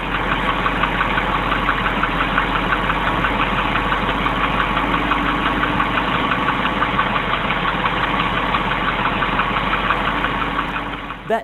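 A Porsche engine with bore scoring idles loudly and continuously, with a steady rhythmic ticking knock running through its drone for the whole stretch. No one speaks.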